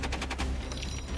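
An M240 medium machine gun fires a rapid burst of evenly spaced shots that fade into a ringing echo, loud and alone with no voices.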